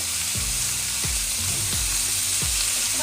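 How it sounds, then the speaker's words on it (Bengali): Mixed vegetables sizzle steadily in a pan as salt and turmeric are stirred through, with several distinct scraping sweeps of the spoon over the constant close frying hiss; no talking. "ভালো করে মিশিয়ে দিতে হবে সবজিগুলোর সাথে লবণ হলুদটা"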